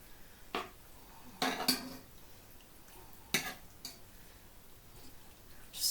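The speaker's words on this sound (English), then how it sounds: "Just stirring it about." A spoon stirring Cajun chicken stew in a pan, giving sporadic clinks and scrapes against the metal, several spaced knocks over a quiet background without talking.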